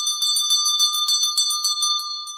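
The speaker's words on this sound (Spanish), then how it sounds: "para que suenen las campanas" Bright metallic bells ring close and loud in a fast, continuous rhythm, with the strikes overlapping into a steady shimmering peal that goes on for the whole stretch.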